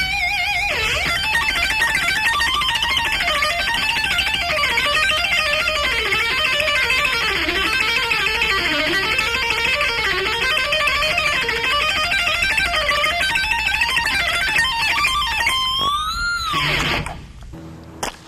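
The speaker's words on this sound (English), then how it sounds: "Let me try out with a little more distortion and the treble pickup to get that mean sound." An electric guitar played on its treble pickup with extra distortion fills the clip with a steady stream of fast, mean rock licks. It ends in a quick bending squeal and then falls silent.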